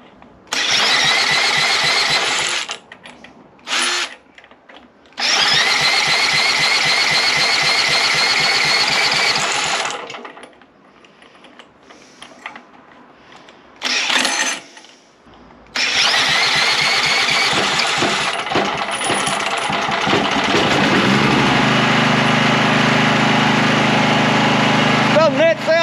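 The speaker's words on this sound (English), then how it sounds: "One free generator from the dump." A salvaged petrol generator from the dump cranks in several loud bursts with gaps between, then catches and runs steadily up close, with voices at times.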